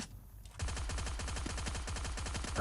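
Gunfire in Free Fire: after a brief quiet moment, fast, evenly spaced automatic shots rattle on steadily, close and fairly loud, with a sharper burst right at the end.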